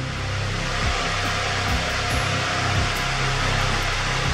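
A heat gun blows a steady, close rush of hot air, with a low motor hum underneath, as it warms the edges of a Ford Transit Connect Mk1 headlight for a blackeye conversion.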